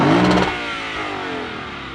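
A V8 family car engine gives a loud, sharp rev in neutral heard from outside, then settles into a lower idling rumble.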